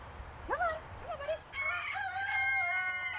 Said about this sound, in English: the friendly rooster